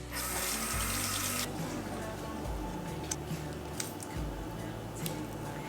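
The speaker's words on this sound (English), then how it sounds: "I have a little mangosteen, and I'll wash it and then I'll show you." A kitchen tap runs steadily as a small mangosteen fruit is rinsed under it, loud splashing at first, then a quieter continuous trickle with small handling sounds.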